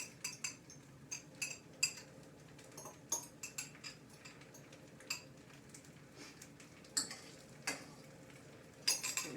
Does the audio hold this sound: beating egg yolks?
yes